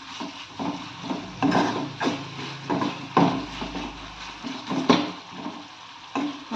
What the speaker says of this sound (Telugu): ఎందుకంటే ఉడుకుతాయి కాబట్టి చింతపండు పులుసు వేస్తున్నాను